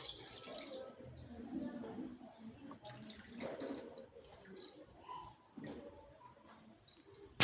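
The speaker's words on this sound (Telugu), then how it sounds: "మనం చింతపండు అవన్నీ కలుపుకున్న నీళ్ళు ఉంటాయి కదా, వాటరు, సో అవన్నీ పోసేయాలి." Tamarind water pours into a pan of fish curry in a soft, low, continuous trickle with faint splashing, quiet and close throughout.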